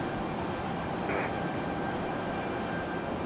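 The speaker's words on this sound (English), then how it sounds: "That one's an A320." American Airlines Airbus A320 jet at the end of the runway at Raleigh-Durham International Airport, a steady distant engine roar with a faint whine, continuous and even throughout, no voices.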